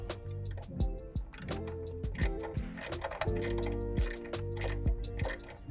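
Ratcheting and tightening of the bolt on the clamp of an in-frame eco system basket fitted to an electric bike: repeated close, crisp clicks and mechanical ticks in uneven bursts, with a low steady hum underneath.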